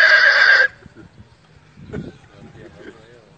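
A man imitates a horse neigh with his voice, a loud, high, quavering whinny lasting about half a second at the start, followed by quieter low murmurs and breathy sounds.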